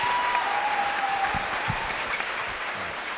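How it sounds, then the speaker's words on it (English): Steady applause from an audience at a school band and choir winter concert, a dense even patter of clapping that holds throughout and slowly eases near the end. "Can I get another round of applause for Tara Skulma on that clarinet part?"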